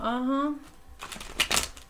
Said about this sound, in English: When I split the deck and start to shuffle